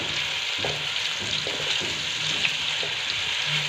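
Vegetable biryani mixture stirred and gently frying in a pot over low flame, a steady soft sizzle with occasional scraping strokes of the spoon, close and without talk.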